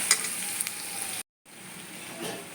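Onions and drumstick pieces cooking in a pan, a soft close sizzle with a few stirring clicks, cut off by a brief silent gap before the quiet frying resumes; no voices.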